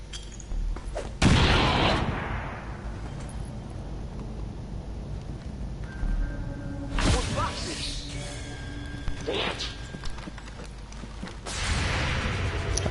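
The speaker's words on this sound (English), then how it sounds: "Throwing grenade!" A grenade goes off in XCOM 2, a sharp crash-like blast near the start, with further bursts of impact and gunfire-style hits later, over steady game ambience and background music.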